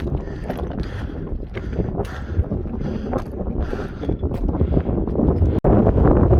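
Strong gusty wind buffets the microphone on a mountain trail traverse along the Pacific Crest Trail, a loud roaring rush with surging gusts and no speech.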